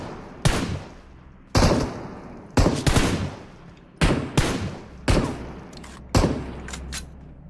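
Loud, sharp gunshots in PUBG Mobile, played on the Gameloop emulator, arriving as about eight separate cracks in uneven pairs and singles, each with a short decaying tail and no talk over them.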